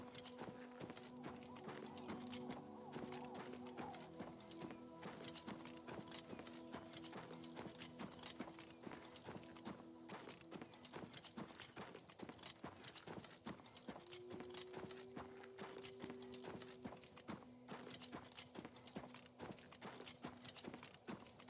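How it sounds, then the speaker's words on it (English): Horse hooves clip-clopping steadily in the video game Oblivion Remastered, a quiet, continuous trotting rhythm layered with game ambience, tonal music-like hums and a brief whinny-like tone. "There's my horse."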